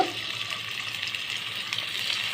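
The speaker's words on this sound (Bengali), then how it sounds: "তো মাছগুলো এখানে ভাজার জন্য আমি এখানে রান্নার তেল দিয়ে দিব" Constant hissing sizzle of tilapia fish frying in hot oil, even and close, with no talking.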